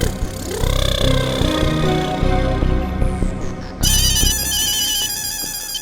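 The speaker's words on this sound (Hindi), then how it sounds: "टप्पू फोन भी नहीं उठा रहा है।" A telephone ringtone rings on and on with no one picking up, a loud electronic melody repeating in bursts, with a brief shift to a brighter, harsher tone partway through.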